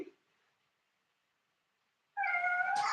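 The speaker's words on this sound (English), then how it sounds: "Caught on film. Evil cat." A cat meows loudly and close by with a drawn-out, wavering cry after a stretch of near silence, during a gentle yoga class at home.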